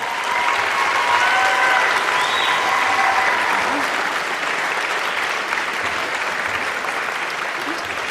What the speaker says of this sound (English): let's give a round of applause for our MA graduates.